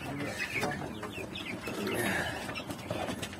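Chickens cluck and squawk amid a busy, noisy barnyard, with rustling and scattered calls throughout.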